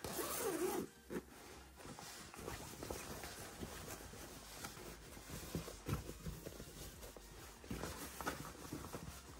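Zipper on a sewn cushion cover being opened, a long rasping pull of repeated scratchy zips, close and fairly quiet, with soft handling of fabric afterward.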